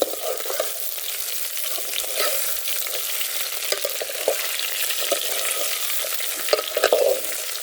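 Bitter gourds frying in oil in a pot are stirred, giving a steady, close sizzle with soft scraping strokes throughout and no talking.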